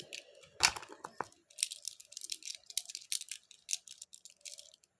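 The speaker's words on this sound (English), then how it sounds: "Real jadites will have that very crunchy ASMR type sound on it." Rapid, crisp crunching and clicking of hard jadeite beads ground together close up, a steady run of sharp little crackles with a few louder knocks at the start.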